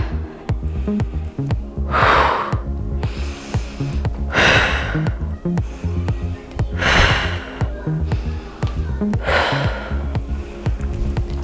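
Four loud, forceful breaths, sharp exhales through the nose and mouth, recur about every two and a half seconds during a pregnancy leg workout, over steady background music with no talking.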